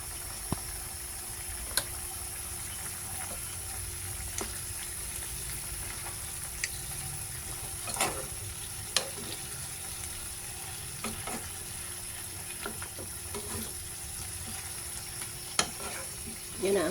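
Chicken liver and gizzard for adobo sizzle steadily in a pan, a constant close frying hiss broken by occasional clicks and scrapes of stirring, with no talk.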